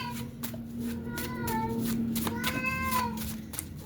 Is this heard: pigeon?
no